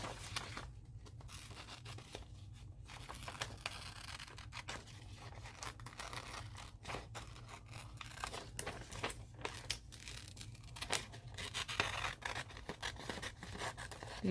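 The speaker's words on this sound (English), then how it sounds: "These are some pretty good sharp scissors." Sharp, heavy scissors cut and rustle paper for a collage, giving a steady close crinkling and snipping texture with brief scraping bursts, and no voices.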